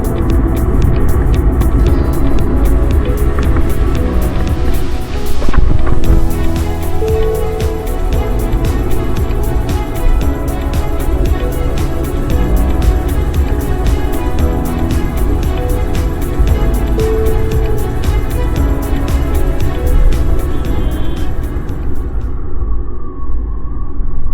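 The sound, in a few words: vehicle engine on an empty road through Joypur forest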